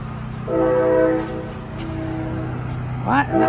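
A loud train horn sounds one long chord over a steady rail rumble, heard from the Philadelphia Art Museum porch, then a voice speaks close by.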